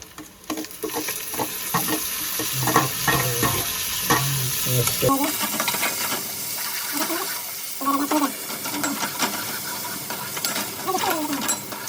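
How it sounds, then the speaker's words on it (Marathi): Tomatoes drop into hot oil over deep-browned onions for a village-style mushroom curry, giving a steady close sizzle with stirring scrapes throughout, loudest and busiest in the first few seconds. "कांदा झालाय लाल, तर आता टोमॅटो टाकतो."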